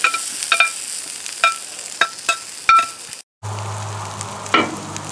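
Steak for a grilled Philly cheesesteak sizzles and fries on a hot cooking surface, with scattered sharp clicks and scrapes of a utensil over a steady sizzle, then a brief dropout and a lower humming rumble under continued frying.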